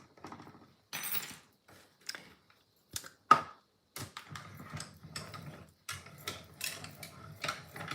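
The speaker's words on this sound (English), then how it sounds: "We're going to die cut some bats and some pumpkins." A die cutting machine cuts bat and pumpkin shapes with clicking, cranking mechanical bursts that start sparse and turn into a steady ratcheting rhythm, close and fairly quiet.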